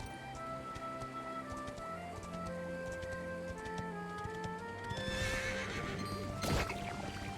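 A horse in the video game Dragon Quest 11 gives a clear, loud whinny with clip-clopping hooves, set against the game's music.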